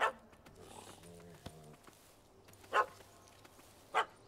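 A dog in The Witcher 3 barks three times, sharp and fairly close, spaced over a few seconds against quiet game ambience with a low hum.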